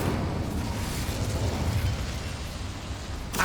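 Incendio fire spell cast in Hogwarts Legacy, a sustained roaring whoosh of flame with a deep rumble, steady and loud for several seconds before cutting off abruptly.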